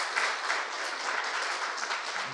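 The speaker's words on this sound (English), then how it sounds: "I guess we just need to give a round of applause" An audience applauds steadily and densely at a talk event on raising a boy child as a single mother, dense even clapping filling the room without pause.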